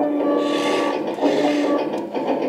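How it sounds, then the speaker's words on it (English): Close, continuous mechanical whirring and rasping from the turret of a customized full-metal 1:16 scale M1A2 Abrams RC tank as it turns, steady throughout the short stretch with no voices. "Turret turning sound."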